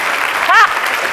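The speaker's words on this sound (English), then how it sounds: "let's give him a clap" An audience at a presentation breaks into steady, dense applause that fills the whole short moment, with a brief voice heard over the clapping.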